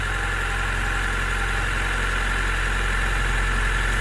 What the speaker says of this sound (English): Let the car engine run a bit, let the gasket seat.